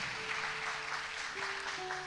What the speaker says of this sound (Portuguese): Bate palma para Jesus.